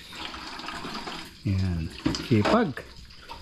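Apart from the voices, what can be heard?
water running and draining in a campsite washroom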